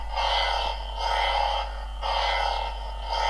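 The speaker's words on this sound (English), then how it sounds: "Add some motion to your Saber" A toy lightsaber makes rhythmic whooshing swing sounds that rise and fall over a steady electric hum, repeating about every second.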